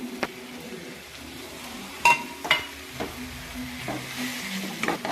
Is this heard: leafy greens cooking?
yes